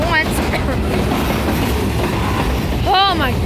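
Freight cars of a Kiamichi Railroad train in Idabel, Oklahoma roll past close by in a steady, dense rumble, with faint wheel squeals and brief tonal voices near the start and end.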